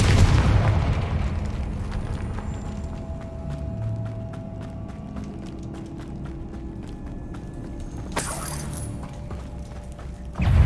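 Confringo blasting spell erupting in the game Hogwarts Legacy: a loud boom opens, followed by mechanical clicking and rumble, then a second sharp burst flares late in the clip.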